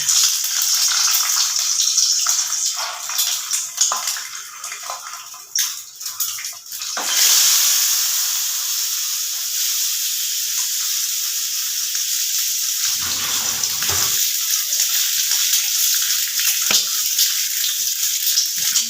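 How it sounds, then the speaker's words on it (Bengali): Eggs frying in hot oil, a bright steady sizzle close by that flares loudest at first, then settles into a continuous hiss with a brief dip partway through. "তেলটা গরম হয়ে গেছে আমি ডিমগুলোকে আস্তে আস্তে ছেড়ে দেবো"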